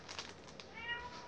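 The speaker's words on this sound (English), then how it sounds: "My sister's cat is still here." A cat gives a single brief, faint meow, quiet and somewhat distant against low background noise.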